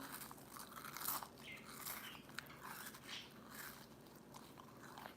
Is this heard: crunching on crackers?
yes